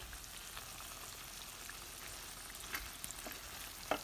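Salmon gravy simmers and fries steadily in a pan, a soft continuous sizzle with faint crackles and a couple of brief louder pops near the end.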